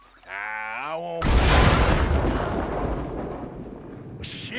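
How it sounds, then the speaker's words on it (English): A loud, sustained explosive blast with crackling rumble bursts in after a brief tonal electronic sound, then slowly fades, in the video game Red Dead Redemption 2. "Guess I'll just listen for the explosion."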